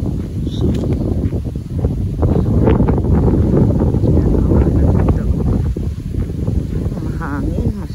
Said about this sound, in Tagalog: Mahangin, masarap.